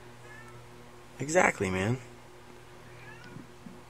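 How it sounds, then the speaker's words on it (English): A cat in heat lets out a loud, drawn-out double meow close by, with someone speaking briefly and faint room sound around it. "So here comes my cat"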